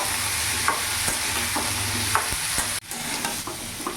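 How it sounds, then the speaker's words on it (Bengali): A spoon stirs jackfruit curry in a hot pan, with scraping strokes over a steady loud sizzle and one brief pause partway through. "ভালো করে নাড়াচাড়া করে নেব।"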